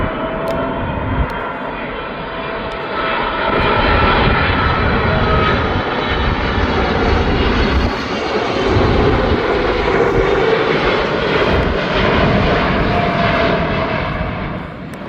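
A DHL cargo aircraft landing at East Midlands Airport, its engines a steady, loud roar that swells and sustains for the whole stretch, with no talk over it.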